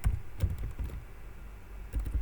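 Keys on a computer keyboard are tapped in short, irregular bursts with a pause in the middle. The typing is close but quiet, and no one speaks.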